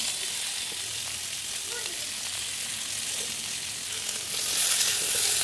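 New potatoes frying in a fish curry sizzle in a loud, constant hiss that grows brighter and louder near the end, with no talking heard.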